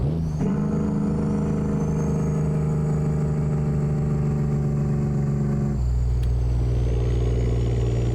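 Truck engine in American Truck Simulator droning at steady revs with a pulsing surge, then dropping to a lower, rougher note near the end, loud and alone with no talk.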